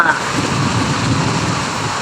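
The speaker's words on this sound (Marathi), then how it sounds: "बघा कसा पाऊस चालेल जोरात." Heavy monsoon rain pours down steadily in strong wind, a dense continuous broadband roar filling the scene at close range.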